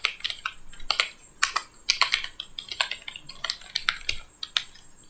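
A username and password go in on a computer keyboard: quick, irregular clacking keystrokes in short bursts and pauses, close and clear with no talking.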